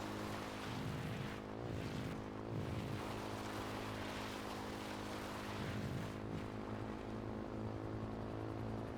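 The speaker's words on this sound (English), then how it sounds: "Helicopter" Helicopter in a GTA roleplay video game, a continuous droning rotor and engine hum with low pulsing beats, steady and fairly faint throughout with no talking.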